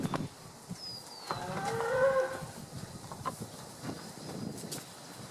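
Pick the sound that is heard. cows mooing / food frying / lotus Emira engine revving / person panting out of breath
cows mooing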